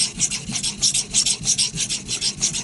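A Bark River knife being sharpened: steady, rhythmic rasping strokes of the blade across a sharpening surface, close and fairly loud, about two strokes per second with no talking.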